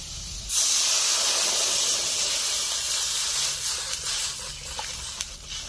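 Water poured into a hot pan of fried potatoes, for a fish-head and taro-leaf curry, sets off a sudden loud, broad hiss of sizzling steam that holds steady and then slowly eases over several seconds.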